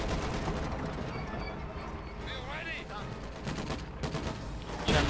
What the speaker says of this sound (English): lots of anti-tank gunfire there